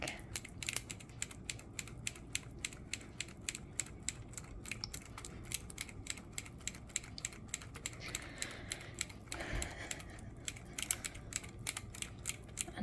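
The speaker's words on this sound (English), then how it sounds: "and then whisk" A whisk beating chocolate cupcake batter in a bowl, with rapid, steady clicking and tapping strokes that run on without pause, close up and fairly quiet.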